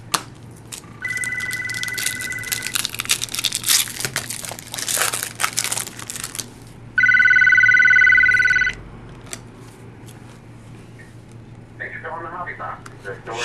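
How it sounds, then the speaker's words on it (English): An electronic phone ring sounds twice, a short warbling burst and then a longer, louder one, over crinkling and crushing of trading-card wrappers while someone talks. "Oh, phone's ringing."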